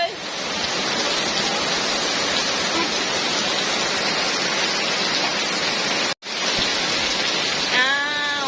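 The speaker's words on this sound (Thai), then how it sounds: "ฝนตกพี่น้อง" Steady, dense rain pours down in a continuous hiss, briefly cutting out once, with a faint chirping sound near the end.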